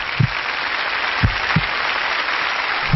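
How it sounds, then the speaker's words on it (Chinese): A studio audience on a Chinese television talk show breaks into steady, even applause to welcome a mystery guest, a continuous wash of clapping with a few louder low thumps and no talking. "掌声有请。"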